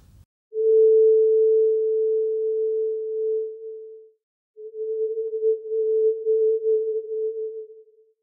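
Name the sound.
440 Hz note filtered, harmonics removed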